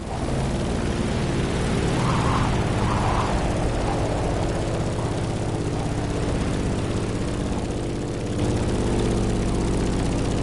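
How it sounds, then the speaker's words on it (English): A Grumman F8F Bearcat propeller fighter plane in the racing game The Crew Motorfest drones steadily and loudly in flight, its deep engine roar continuous with a brief dip near the end. "In the cockpit of a stunning Grumman F8F Bearcat, or simply the Bear."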